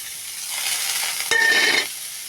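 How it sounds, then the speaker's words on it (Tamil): Pirandai (adamant creeper) fries in sesame oil in a pan with a steady, close sizzle that surges louder for a moment partway through, then settles back down. "கொஞ்சம் நல்லெண்ணெய் நல்லா விட்டு ஃப்ரை பண்ணுற மாதிரி நல்லா விட்டுக்கணும்"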